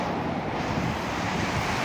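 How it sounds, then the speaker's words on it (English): Wind roars across the microphone on a wet, windy day in Santander, a dense, constant rushing blast with no pauses. "quite a wet, windy day"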